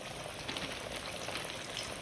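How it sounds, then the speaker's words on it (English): Steady, crackling sizzle of chicken frying in hot oil at 350 degrees, dense and continuous throughout, with no voices. "Just take the chicken out and layer it in the hot oil."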